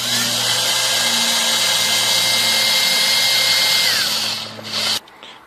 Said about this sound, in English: Then get your drill with the small drill bit